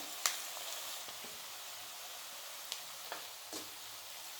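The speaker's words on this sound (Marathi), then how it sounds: "हे बघा कांदा आता जरा चांगला भाजलाय" Onion frying in a pan for a traditional bharangi leaf vegetable dish, giving a faint, steady sizzle with a few soft clicks of stirring, and no voices.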